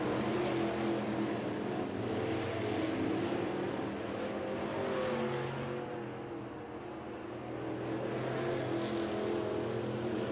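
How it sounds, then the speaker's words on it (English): Late model stock cars race around a 1/3 mile oval track under the lights, their engines making a continuous loud roar that dips briefly as the pack moves away and then swells back. "Ryan King using the whole racetrack. That car just works anywhere he wants it to"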